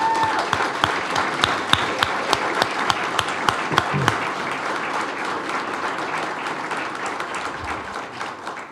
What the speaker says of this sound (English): Let's give a big round of applause to the Hammond Police Department.